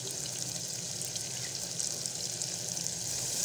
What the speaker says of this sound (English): Now I'm frying it first.